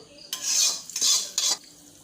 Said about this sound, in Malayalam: എന്നിട്ട് കറിയൊന്ന് നന്നായി ഒന്ന് ഇളക്കി കൊടുക്കുക